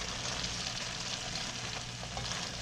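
Cooked pasta goes into a pan with Rao's tomato sauce and sizzles softly and continuously with faint stirring, quiet and with no talk.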